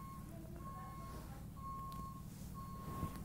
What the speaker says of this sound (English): And the tow truck finally arrived.